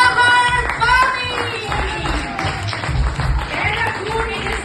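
An audience applauds at a cultural event honouring Shwamar Bami, steady clapping that runs throughout, mixed with a loud voice and music.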